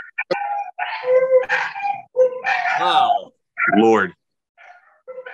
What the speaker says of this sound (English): my dogs are singing in the background